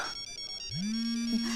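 A mobile phone ringtone starts with a rising tone that settles into a steady electronic melody, clear and fairly close, with no speech over it.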